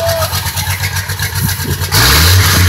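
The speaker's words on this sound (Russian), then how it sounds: "Дайте больше шума, покажите мощь мотора!" A rally car's engine idles roughly at a Silk Way rally event in Cheboksary, then bursts into a loud, sudden rev near the end of the short burst.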